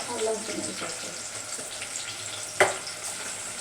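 Ginger garlic paste fries in a pan with a soft, steady sizzle close by, and one sharp clink near the end.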